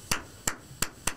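Four sharp, separate hand claps in an uneven rhythm, close and crisp, each a short slap with nothing else around it, made as an alternative way of applauding someone.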